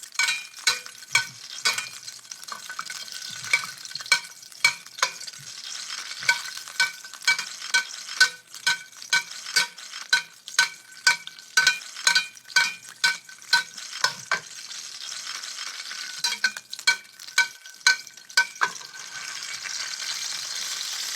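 Duck breast frying skin-side in a pan and rendering its fat: a steady, close crackling sizzle with a rapid series of sharp pops and spits throughout, no talk over it.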